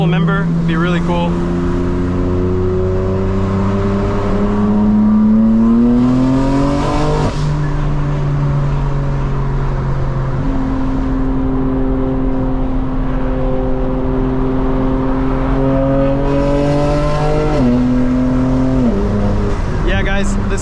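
A 2025 BMW M4 Competition with a CS transmission tune accelerates hard from inside the cabin, engine pitch climbing and dropping sharply at several quick gear shifts, loud and continuous, with occasional talk.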